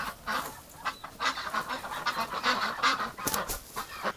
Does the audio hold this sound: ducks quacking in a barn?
yes